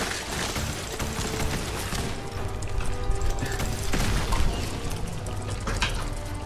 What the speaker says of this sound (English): OP missile launcher time.